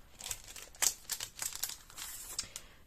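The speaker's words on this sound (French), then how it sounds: "je vais utiliser des petits stickers" Small paper stickers with party words rustle and crinkle as they are handled for a 30x30 Christmas scrapbook layout, a string of light, close crackles and taps, quiet and irregular.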